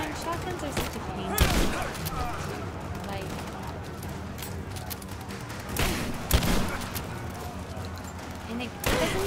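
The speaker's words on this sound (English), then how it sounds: "Man, shotguns are such a pain." Shotgun blasts in the video game Rise of the Tomb Raider, a few loud broadband bursts spaced several seconds apart over constant game background noise and a talking voice.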